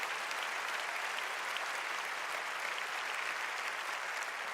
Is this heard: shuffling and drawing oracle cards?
no